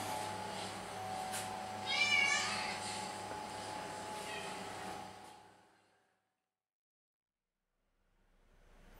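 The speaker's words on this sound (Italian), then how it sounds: "Questa è la mia suoneria con i gatti, con i gattini." A phone ringtone made of kittens meowing plays for several seconds, high wavering mews over a steady electronic tone, fairly faint, then it cuts off into near silence.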